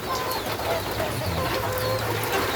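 Black meat chicken hens, now laying eggs, cluck softly and continuously over a steady background hum, with several birds calling at once at close range.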